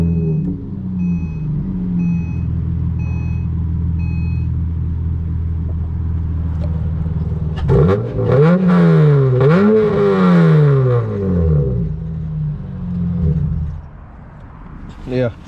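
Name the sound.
straight-pipe car exhaust revving, loud and raspy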